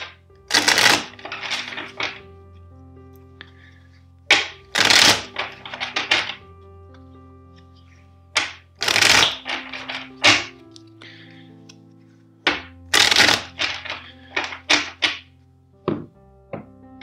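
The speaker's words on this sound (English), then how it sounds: "Let's shuffle four times." Tarot cards shuffled by hand for a reading, heard in about four loud, close bursts of riffling and thumping separated by pauses, with a faint hum underneath.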